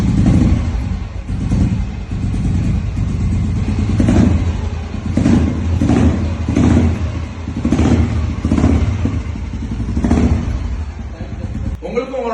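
A restored vintage motorcycle engine runs close by with a loud, rough, throbbing idle and rhythmic surges of revving, with speech mixed in.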